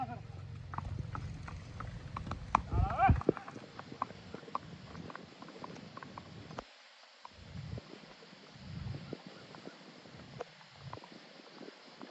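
Horse hooves clip-clop softly at close range as mares are led along, a quiet uneven patter of steps while someone talks throughout.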